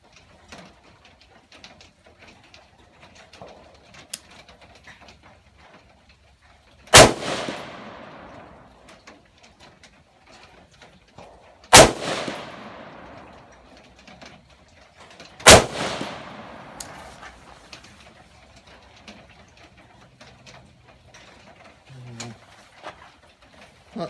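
Three loud, separate gunshots from a budget PSA AR-15 pistol in FDE Magpul furniture, fired at a range several seconds apart, each with a sharp crack and a trailing echo over quiet background.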